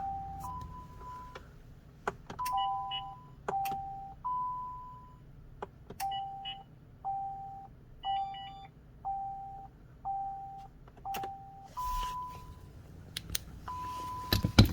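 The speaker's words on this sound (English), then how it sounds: "Same thing with the radar detector. I'm just pressing on and off." Radar detector mounted in a VW ID.4 beeping as it is repeatedly switched on and off, with short tonal beeps and chirps recurring in a steady series inside a quiet car.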